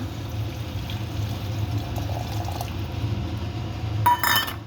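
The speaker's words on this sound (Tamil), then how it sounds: "புளி ஜலத்தை விட்டுடுங்க." Tamarind water pours briefly into a pan near the end, a short splashing burst over a steady background hum, with a faint clink.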